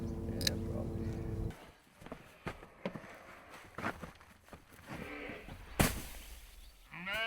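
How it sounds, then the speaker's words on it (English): Sheep bleat at a farm in Kansas as a bale of hay is delivered for feeding, with one loud bleat up front and later calls mixed with footsteps and rustling, while people talk nearby. "He's delivering a bale of hay to feed the sheep."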